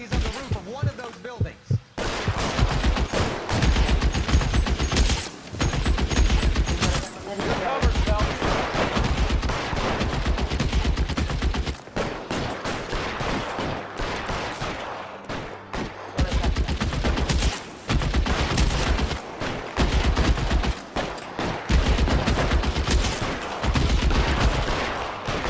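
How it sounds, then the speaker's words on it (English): Gunfire in the video game L.A. Noire during a rooftop shootout: dense, sustained bursts of shots and booming reports filling the whole stretch, loud and nearly continuous with only brief gaps. "He's emptied 2 clips into the place."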